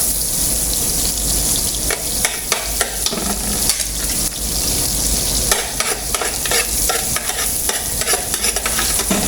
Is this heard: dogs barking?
no